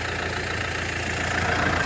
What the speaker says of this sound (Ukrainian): Трактор ДТЗ-5404К